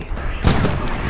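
Artillery fire in Hell Let Loose, a World War II shooter: a single heavy boom landing near the middle of a brief stretch of low battlefield rumble, fairly close and loud, with no talking.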